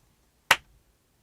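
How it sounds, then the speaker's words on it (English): A single sharp hand clap, close and fairly loud, standing alone against near silence late at night. "I clapped."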